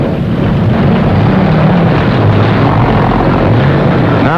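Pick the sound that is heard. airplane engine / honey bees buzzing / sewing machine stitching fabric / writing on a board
airplane engine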